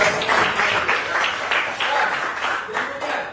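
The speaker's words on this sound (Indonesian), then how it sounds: "tepuk tangan untuk Yuka." Classroom applause for a student, a burst of children clapping in uneven, pulsing waves that stays fairly loud and close for a few seconds, with voices mixed in.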